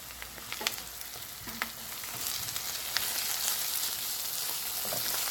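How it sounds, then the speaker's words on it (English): Green chili pepper sauce with a stock cube is stirred over medium heat, a hissing sizzle that grows slightly louder, broken by a few sharp spoon clicks against the pan, close, without speech. "Then I give it a stir."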